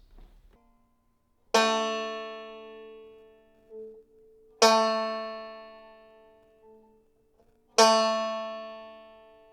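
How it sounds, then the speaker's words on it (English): Three bright, snappy bluegrass banjo pull-offs with a fingernail snap ring out one at a time with pauses between, each sharp attack fading slowly, close and unaccompanied. "when I play a pull-off and I want it to really have that extra attitude"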